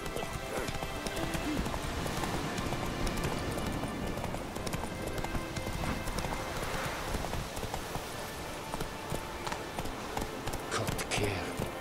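Horse galloping in the video game The Witcher 3: steady, fast clip-clop hoofbeats run continuously and close for about twelve seconds over a busy game soundscape, with a faint voice in places.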